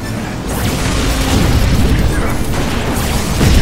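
Satellite laser strikes detonate in the Cars 2 video game, a loud, continuous wall of booming explosions and crashing rumble that fills the clip from start to finish.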